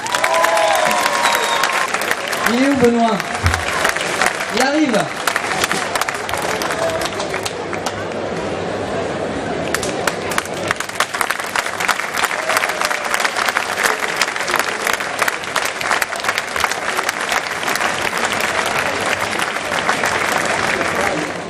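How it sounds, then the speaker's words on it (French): Crowd at a village festival applauding firefighter Benoît Schumann, with loud, continuous clapping and some cheering that lasts throughout, while voices talk briefly near the start. "Je voudrais que l'on applaudisse Benoît Schumann."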